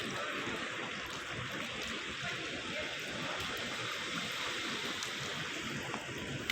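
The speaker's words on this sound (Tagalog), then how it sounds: "Tunog ng tubig." Water running steadily in a stream at night, a continuous close rushing and trickling wash that stays even throughout with no pauses.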